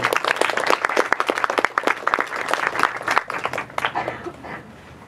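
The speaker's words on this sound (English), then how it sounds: "A big round of applause to Dr. Watson and members from BGA." Sustained applause from a crowd, dense and steady clapping that gradually thins out toward the end.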